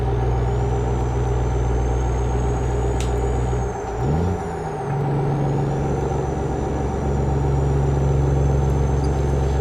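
Steady idle rumble of a Cat C-12 diesel engine in a Kenworth W900 truck pulling an oilfield lowboy in American Truck Simulator, with a brief air-brake hiss and a shift in engine note midway, continuous and close.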